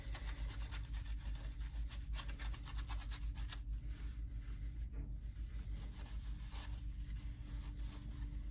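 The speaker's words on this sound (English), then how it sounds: "we're just going to clean this old compound off" Old thermal grease is wiped off a CPU cooler with rapid back-and-forth rubbing strokes, close but soft, continuing steadily with brief pauses and no voice.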